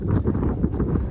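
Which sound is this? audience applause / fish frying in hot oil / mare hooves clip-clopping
mare hooves clip-clopping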